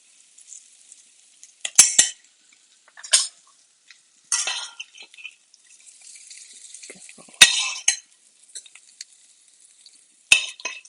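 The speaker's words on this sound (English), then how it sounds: "They always get a nice sear when you add butter to the pan." Kale and white beans cook in a pan with butter: short bursts of sizzling and stirring scrapes come in intermittent clusters, separated by near silence.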